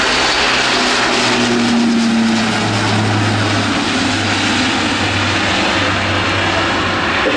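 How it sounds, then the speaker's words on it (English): A Luftwaffe Airbus A400M military transport roars steadily and loudly on a max-effort takeoff at an air show, its heavy propeller drone filling the whole stretch with a low throbbing hum. "On the roll, it's the Airbus"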